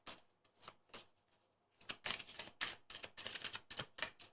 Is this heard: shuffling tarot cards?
yes